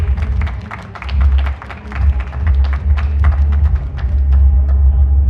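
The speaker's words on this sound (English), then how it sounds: "a round of applause for that" A crowd at the Temple Uprising stage of Glastonbury Festival claps, the applause dense and sustained over a low, rumbling festival background.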